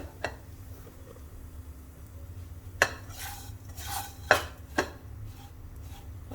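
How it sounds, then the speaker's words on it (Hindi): Vermicelli (sewai) being stirred and roasted on low flame in a pan, with a few sharp spoon scrapes and clinks against the metal over a quiet low background hum. "और इसे चलाते हुए इसी तरह से भूनते रहना है।"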